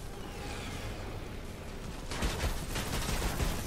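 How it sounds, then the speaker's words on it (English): Fortnite gunfire starts midway as a quick, close burst of sharp repeated shots, breaking out of a low, even game ambience. "they're shooting at me"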